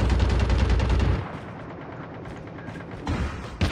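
Rapid automatic gunfire bursts in Call of Duty, loud and dense for about a second, then dropping to a softer battle rumble with a few further shots near the end.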